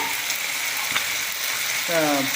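Ground pepper and cumin masala frying with chicken in a pan, a steady close sizzle throughout with a brief scrape of stirring near the end.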